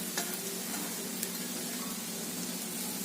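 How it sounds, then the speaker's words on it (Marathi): Bitter gourd sautés in a pan with grated coconut, a constant sizzle under light scraping and stirring clicks from a utensil, close and moderately loud, no talk. "आणि चांगली मिनिटभर आपल्याला व्यवस्थित परतून घ्यायचंय."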